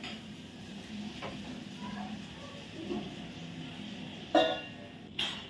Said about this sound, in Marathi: पण आपण परतून घेऊया आता हे वांग परतून झाल्यावर त्याच्यावर आपण झाकण ठेवूया